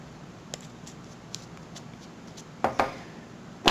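Cuban Crafters Revolucion cigar scissors trimming a cigar cap, a few faint ticks followed by two sharp close snips and a final crisp cut at the end, with no talking.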